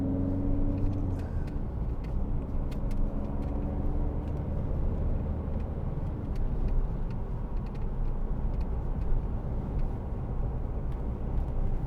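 A 2012 Citroen DS3 1.6 e-HDi Airdream DStyle Plus three-door diesel hatchback is driven with a constant low engine and road rumble inside the cabin, plus faint ticks and rattles.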